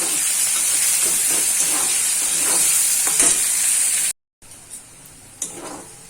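Chopped onions with salt frying in hot oil in a pan, a loud continuous sizzle and hiss that cuts out briefly, then returns with a few soft stirring clatters.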